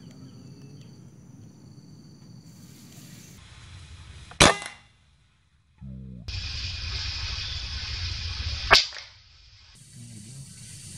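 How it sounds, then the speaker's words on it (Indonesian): Two sharp, loud gunshots fired at a monitor lizard outdoors, several seconds apart, each a single crack over steady insect and ambient noise. "Kita coba tembak lagi kedua kalinya guys."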